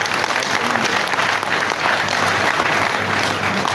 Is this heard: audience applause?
yes